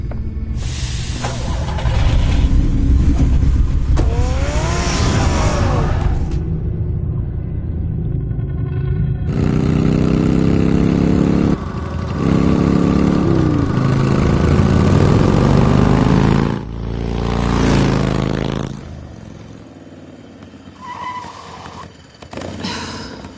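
Batman's car in the Telltale game revs and drives off in loud, rumbling surges of engine noise, broken by brief cutaways and quieter stretches.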